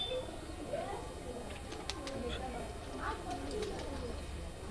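Green-eyed Madrasi pigeons coo softly at Surjapur under a constant low background murmur, their faint calls recurring through the stretch.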